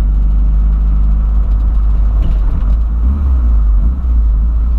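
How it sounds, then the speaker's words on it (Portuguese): A Volkswagen Voyage runs close by with a newly repaired carburetor, giving a loud, steady engine drone with a deep rumble and no talking. "E meu pai arrumou o carburador. Então tá filezinho. O carburador tá o brabo."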